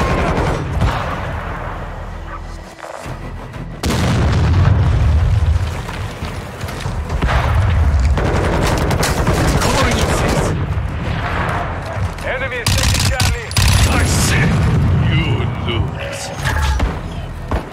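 Gunfire in Call of Duty: Modern Warfare II, with dense bursts of shots and booming impacts filling most of the stretch, heard alongside a speaking voice.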